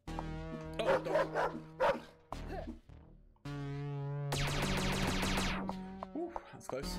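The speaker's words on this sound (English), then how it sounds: "dog" Dog barks and yips from the Paradox Soul video game ring out in clustered bursts, close and fairly loud, alongside a humming game background, with a voice briefly talking over them.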